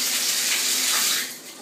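Steady, loud hiss of water spraying from a bare shower pipe with the head removed, checked for drips while fitting a Waterpik shower head; constant flow that eases off slightly at the end.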